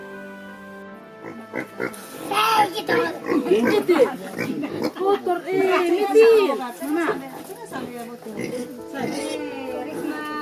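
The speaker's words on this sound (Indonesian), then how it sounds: "cara beternak babi dari para peternak yang menjadi tempat studi babi tersebut" Pigs on a pig farm grunt and squeal in a busy run of calls, with people and children chattering close by throughout.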